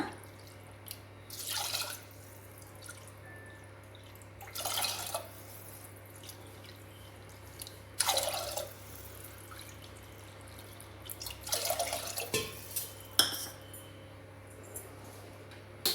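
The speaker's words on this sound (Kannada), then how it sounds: "ಇದಕ್ಕೆ ನಾವು ಒಂದು ನಾಲ್ಕು ಕಪ್ಪಷ್ಟು ನೀರು ಹಾಕೋಣ" Water splashes in a few short bursts into a pressure cooker over a steady low hum, each pour lasting a second or so with quiet gaps between.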